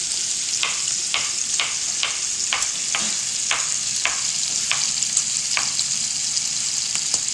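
Mushrooms frying in a pan for homemade omelettes give a steady, close sizzle throughout, with a series of brief sharp clicks and taps from stirring or utensils scattered across it; no one speaks.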